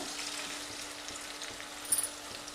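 Fish curry sizzling in a pan as coriander leaves are added and stirred, a soft steady frying hiss with a brief louder scrape of the spoon near the end.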